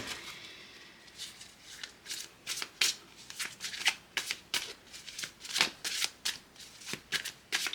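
Tarot cards are shuffled by hand, close and fairly quiet, making a long series of crisp riffling bursts in an uneven rhythm, roughly twenty in all, with no talking.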